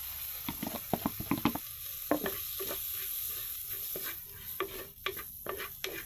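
A spoon stirs chopped atu kakiri and curry ingredients in a pan: a quick series of sharp scraping clacks with short pauses, over a steady faint sizzle of frying.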